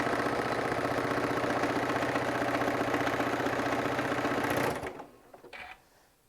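A sewing machine stitches fabric in a fast, steady mechanical whir that runs continuously close by, then stops abruptly, leaving a few quiet clicks and handling sounds.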